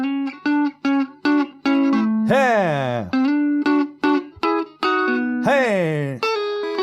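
Rockabilly electric guitar licks, clean twangy staccato notes in a bouncy rhythm with two sliding bends, loud and close; someone shouts once briefly.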